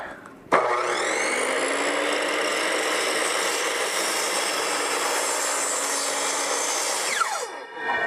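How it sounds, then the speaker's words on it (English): Power saw cutting through a cedar wood plank for a dock, a loud sustained whine starting abruptly and running steadily for about seven seconds before spinning down, with no talk. "we're going to just do a cut here just to test the saw"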